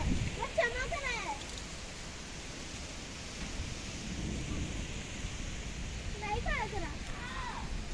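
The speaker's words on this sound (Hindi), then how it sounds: "बूंदा बूंदी शुरू हो गई है" Light drizzle from the first rain of summer falls during a dusty windstorm, a steady hiss of rain and wind with voices talking over it now and then.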